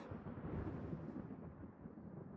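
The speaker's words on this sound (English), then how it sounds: "Why is it thundering?" Thunder in the Genshin Impact video game's desert area rolls as a low, steady rumble, fairly quiet and with nothing else over it.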